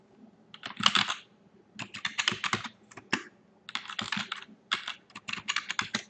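Computer keyboard keys clatter in quick close bursts with short pauses between them as someone types to reset a user's password.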